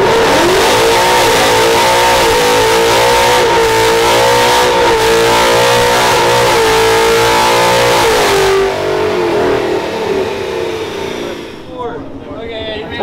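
A C15 diesel engine roaring loudly on a dyno as it accelerates through the gears, pitch climbing and dropping at each shift, then the revs fall away and fade near the end.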